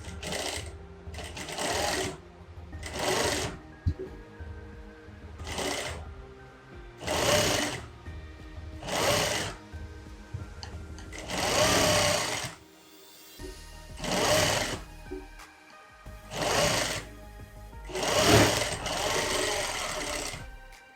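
A sewing machine stitches the sleeves of a girl's skirt-and-blouse outfit in repeated loud bursts of rapid needle chatter, separated by short pauses as the fabric is repositioned.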